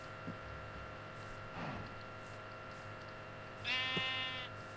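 A Minecraft sheep bleats several times with a synthetic, game-like quality, short calls scattered over a steady electronic hum, the last one louder and wavering.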